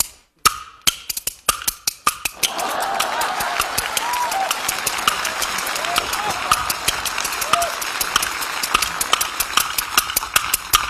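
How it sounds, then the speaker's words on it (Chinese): A boy plays kuaiban bamboo clapper boards on a stage, giving sharp, evenly spaced clacks in a fast, steady rhythm that runs throughout. A soft bed of crowd noise sits beneath the clacks. "这孩子板打得真好"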